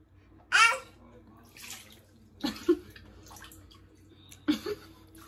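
Water poured from a plastic whale-shaped pail splashes into a bathtub in three separate bursts, close by, with quiet pauses between each pour.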